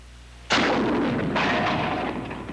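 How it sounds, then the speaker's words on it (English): A bazooka rocket strikes heavy steel tank armor plate with a sharp, loud blast, followed by a sustained rumbling roar and a second surge of noise about a second later, then slowly fading. "you can blast a tank with one of these rockets"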